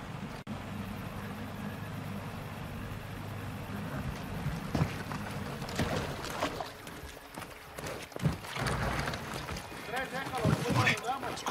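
A motorboat in the Call of Duty Modern Warfare 2 video game runs as a steady low rumble, mixed with splashes and thumps, under talking voices.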